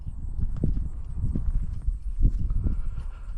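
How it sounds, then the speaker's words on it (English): Horses on a farm in Huntsville, Utah, heard as a steady muffled clip-clop of hooves under low rumbling wind noise, continuous and fairly close throughout. "you got some horses running over there."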